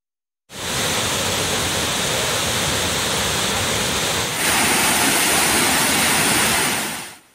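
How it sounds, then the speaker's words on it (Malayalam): Water gushes forcefully through a crack at the base of a check dam near the Bhoothathankettu barrage. A dense, continuous roar holds steady and loud throughout, with no voices. "ചെക്ക് ഡാമിന്റെ അടിഭാഗത്ത് വിള്ളലുണ്ടായി വെള്ളം ശക്തിയായി പുറത്തേക്കൊഴുകിയത്"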